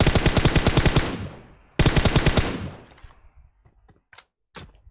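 Automatic gunfire from the PUBG Mobile video game rattles out in two loud, rapid bursts, each trailing off, followed by a few scattered thuds and shorter shots.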